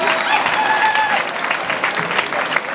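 A church congregation clapping together, dense continuous applause from many hands filling the room for a few seconds.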